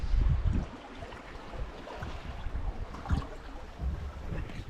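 A sailboat runs with the wind behind it in the San Jose Channel, with steady wind rush and water noise buffeting the microphone throughout and no talk.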